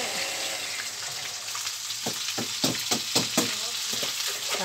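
Rellenos frying in hot oil crackle and sizzle steadily up close, with a short run of sharper spattering pops near the middle.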